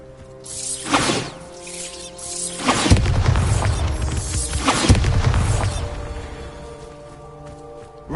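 Bombarda explosion spells in the Hogwarts Legacy game: two heavy booming blasts a couple of seconds apart, each opening a sustained rumbling roar, set over a droning musical score.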